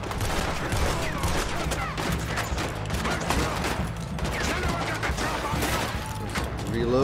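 Gunfire in Red Dead Redemption II, a dense rapid fusillade of close shots and clattering reports over a rumbling background, continuous for several seconds alongside game voices.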